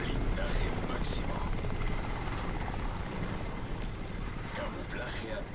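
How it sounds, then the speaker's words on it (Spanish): Helicopter from the video game Crysis hovering nearby, a steady loud rotor and engine drone filling the scene with faint game sounds. "Y ahí está ese helicóptero que me puede ver en cualquier momento."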